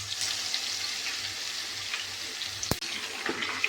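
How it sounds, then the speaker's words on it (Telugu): Garlic and mustard seeds frying in oil for mango pachadi, a steady close sizzle and crackle that runs throughout, with a sharp clink of a utensil near the end. "ఆయిల్లో ఆవాలు, తెల్లగడ్డ వేసేసామండి"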